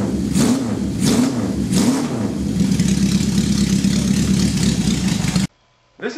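A custom-built motorcycle with a sidecar fires up with three sharp revs, then settles into a loud, steady idle close by before cutting off abruptly.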